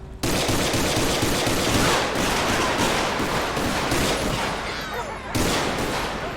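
Dense bursts of rapid gunfire in the LSPDFR police mod for a video game, a loud, continuous fusillade of overlapping shots that stops abruptly and then resumes.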